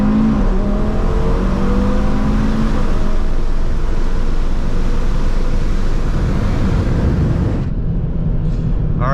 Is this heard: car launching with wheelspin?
yes